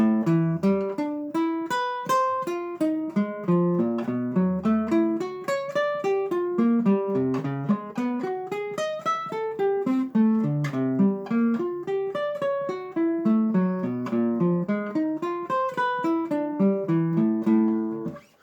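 Clean electric guitar notes picked rapidly in a steady, repeating fingering pattern, running continuously and alone without any voice.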